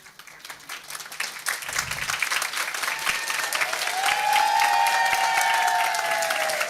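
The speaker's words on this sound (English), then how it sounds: "you're going to clap very loudly" A gala audience at a women's panel event claps loudly in sustained applause that builds and holds, filling the room, with a faint voice briefly audible underneath.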